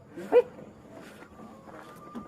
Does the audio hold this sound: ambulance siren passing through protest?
no